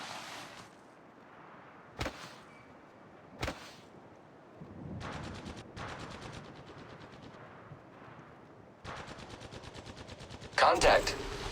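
Gunfire in the video game Apex Legends, with single sharp shots, then rapid automatic bursts of rattling fire in several stretches, loud and close, while a voice speaks in between.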